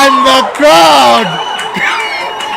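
A crowd at a CSA T20 Challenge cricket match in Potchefstroom, North West Dragons against Western Province, gives loud whoops and cheers close by, with a commentator's voice over the noise.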